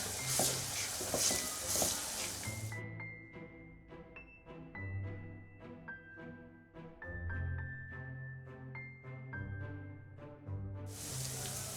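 Ginger garlic paste sizzles in a hot pan while a green chili pickle is cooked, a loud broadband frying hiss at the start and again at the end, with quieter tonal clinks and stirring in between.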